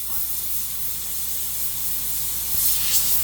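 Continuous hissing spray of a mini sand blaster stripping paint from a die-cast Hot Wheels car, a steady airy rush with faint bursts, close and fairly loud, with no speech.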